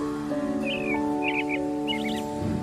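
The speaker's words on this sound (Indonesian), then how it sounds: "Pagi-pagi memang senang banget dengar kicauan burung." Short, bright bird chirps come in a few quick clusters over a steady electronic hum and tonal background, moderately clear and not very close, with no talking.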